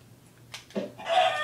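A chicken clucks in a fishing mini game, a few short, bright clucks rising into a louder squawk near the end, heard alone over faint background.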